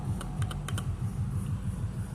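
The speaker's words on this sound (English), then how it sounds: "Nice mechanical keyboard." Quick clicks of keys on a DIERYA T63 60% wireless mechanical keyboard with red switches, a short burst of several strokes over a steady low hum, close and fairly quiet.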